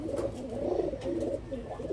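A hen pigeon coos nearby in soft, throaty, rolling bursts that repeat in a steady rhythm and carry clearly without any talk.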